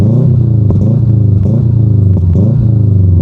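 A Subaru 2.5 boxer engine idling and revving with a loud, close, throbbing low burble and a lumpy, rhythmic pulse, rising and falling slightly.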